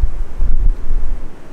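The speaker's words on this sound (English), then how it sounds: "it's the wind and" Wind blows hard against the microphone in Glen Nevis Gorge, Scotland, producing a low, rumbling buffeting that pulses unevenly for a moment, with no voices.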